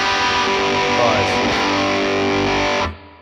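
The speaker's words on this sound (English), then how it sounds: "You'll notice that fuzz really fills up the sound." A thick, fuzzy electric guitar chord through an Electro-Harmonix Russian Big Muff fuzz pedal rings out loud and saturated, then cuts off sharply near the end.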